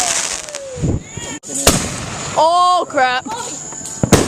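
Fireworks go off at close range: sharp bangs and pops, then whistling rockets that rise in pitch, mixed with excited shouts and chatter.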